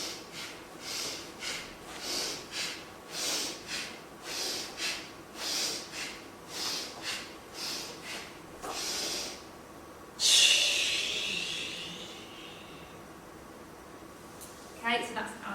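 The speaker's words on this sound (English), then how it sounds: "Okay, so that's our train breath." Children's yoga train breath: a series of about a dozen rhythmic, evenly spaced breathy nasal puffs in and out, close and fairly loud, followed by a sharper gasping exhale and brief quiet breathing.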